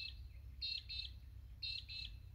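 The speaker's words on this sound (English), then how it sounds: "listening to the peewee birds." Peewee birds calling in a quiet garden in the morning, short paired high whistled notes repeating in two bursts, faint over a low rumbling background.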